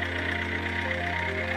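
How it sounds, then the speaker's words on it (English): An AVAS system plays a simulated car engine sound, a steady electronic idle hum with layered tones, faint and continuous without talk. "We shall hear a sound corresponding to the engine turn on first, and engine neutral soon after."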